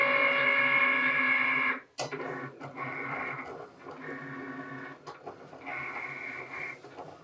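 A Cricut Explorer Air 2 cutting an infusible ink sheet: a quiet whirring motor hum with stepped tonal pitches and pauses, interrupted by a short clack, then resuming in bursts.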